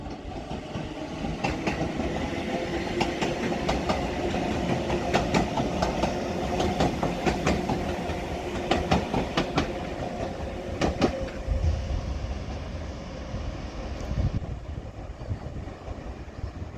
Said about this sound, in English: Now departing is going to be the 1553 Northern service to Liverpool Lime Street